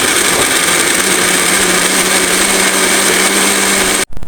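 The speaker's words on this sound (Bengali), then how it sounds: "ব্লেন্ডারটা করে নিচ্ছি।" An electric blender whirs loudly and continuously as it blends a raw mango sherbet with yogurt and cold water, then cuts off abruptly at the end.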